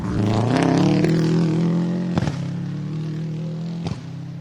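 A Subaru rally car running down a hill at the Rally of Canberra, engine roaring loud and close with gear changes and sharp pops, pitch rising and dropping as it drives.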